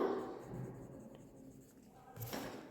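Students in a grade 5 classroom write notes with pens on paper. The scratching is faint and continuous in a quiet room, with a slightly louder stroke near the end.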